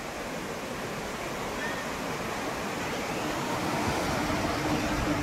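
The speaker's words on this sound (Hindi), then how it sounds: "अब आपको ये झरना दिखा देता हूँ देखो" A waterfall at Pahalgam, milky water pouring down in a steady, dense rushing roar that holds at an even loudness throughout.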